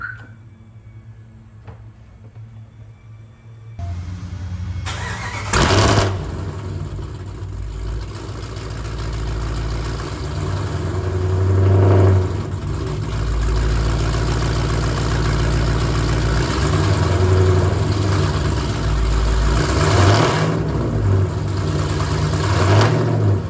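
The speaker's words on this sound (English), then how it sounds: "But before we take off, let's get a cold start." Supercharged Jeep Grand Cherokee Trackhawk cold-starting after a quiet lead-in: the starter catches into a loud flare of revs, then settles to a steady, deep idle with occasional swells, close by and alone.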